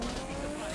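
The engine of a Nissan Fairlady Z432 in the racing game The Crew 2 holds a brief, steady, high whine with a rough roar beneath it, loud and close.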